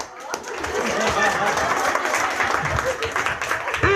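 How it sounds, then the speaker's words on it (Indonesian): An audience at an outdoor church revival service breaks into applause, a dense, sustained clatter of many hands under overlapping voices and crowd murmur. "saudara harus tepuk tangan"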